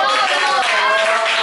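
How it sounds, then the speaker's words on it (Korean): Children clap together in a church children's service, a dense, bright patter of many small hands that carries on steadily for a moment alongside mixed voices and chatter. "박수."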